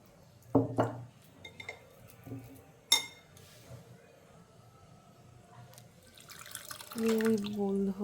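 Water from rinsing a bowl trickles into rava uttapam batter, with drips, clinks of a bowl and utensil, a sharp clatter, then a brief pouring splash near the end.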